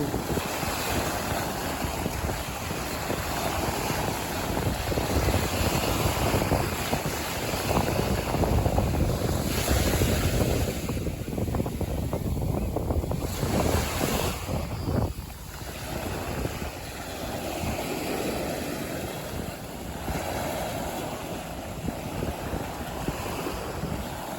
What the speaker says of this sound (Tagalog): Tagilid na alon.